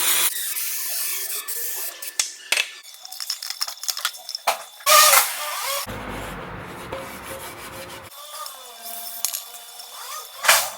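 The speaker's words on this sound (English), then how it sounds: "Alright, now I'm going to clean the oil pan." Several sharp hissing bursts of spray cleaner on a Suzuki Swift's CVT oil pan alternate with scrubbing and wiping sounds, close up, with brief pauses between.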